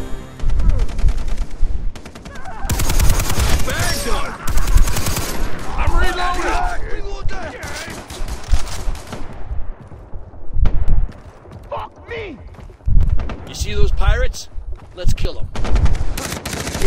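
Rapid gunfire bursts from the Far Cry 3 co-op video game, loud and repeated in clusters across the clip, with short quieter gaps between volleys and occasional game effects.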